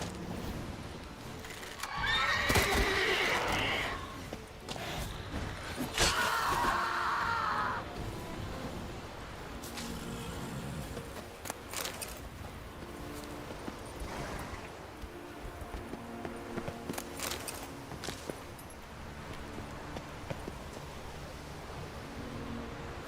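Roach, Geralt's horse in The Witcher 3: Wild Hunt, lets out a couple of loud whinnies early on, followed by softer hoof sounds over a steady wash of ambient game noise.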